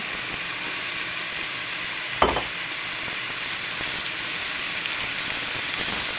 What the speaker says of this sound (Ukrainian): Картопелька в нас смажиться.